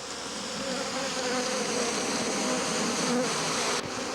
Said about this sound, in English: Now you can see how those bees are viciously stinging that equipment.